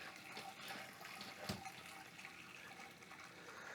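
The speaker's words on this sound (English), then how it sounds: "Sounds like a nice drain." Wort draining from a vessel during a homebrew pale ale brew day, a steady, fairly quiet rush of flowing liquid with one small knock partway through and no talking.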